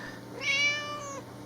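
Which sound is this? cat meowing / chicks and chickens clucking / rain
cat meowing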